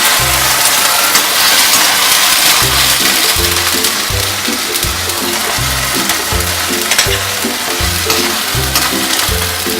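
Smooth onion paste fries with cumin in a pan, a loud close hiss and sputter running throughout, with a rhythmic low thumping underneath.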